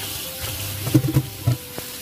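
Mung beans washed by hand in a basin of water, soft sloshing with several distinct splashy rubs and swishes in a short cluster, close and fairly quiet.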